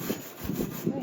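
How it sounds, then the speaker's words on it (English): A wire brush scrubs the wood surface of a French Provincial furniture piece, making rhythmic, rasping back-and-forth strokes, about three passes, close and moderately loud. "We have to go kind of gently because this wood can tend to get roughened up pretty easily with this brush."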